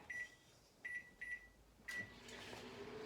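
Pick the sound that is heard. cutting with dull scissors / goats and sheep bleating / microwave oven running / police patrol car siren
microwave oven running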